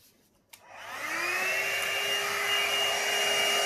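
A hair dryer switches on after a small click and blows steadily and loudly over an acrylic paint pour, a spin bloom treated with cell activator, holding a constant whirring rush to the end.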